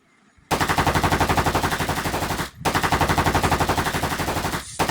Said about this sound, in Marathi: जसं 1 2 3 म्हणून गोळीबार चालू कर जा